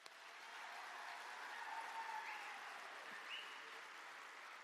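An audience at a State of the City event applauds youth singers after their song, a soft, distant wash of clapping that swells and holds steady for several seconds.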